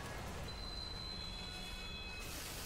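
A train passing in the video game 50 Cent: Bulletproof: a steady, loud rolling rumble with thin, high metallic wheel squeals held across most of the pass, with no voices over it.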